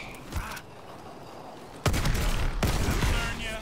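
Gunshots ring out in the Call of Duty Advanced Warfare zombies mode: a faint early shot, then two loud sharp blasts about a second apart with echoing tails.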